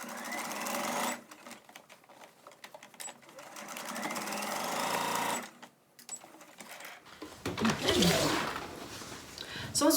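Sewing machine stitching the seams of a fabric bunny Easter basket, running close in a few fast bursts separated by short pauses, with a person talking between and over the runs.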